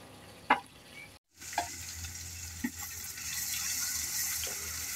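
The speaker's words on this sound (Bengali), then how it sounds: "মাছ ভাজা হইতেছে" Fish fries in a pan with a steady, close sizzle that swells and holds, broken early by a few sharp clinks and a brief gap.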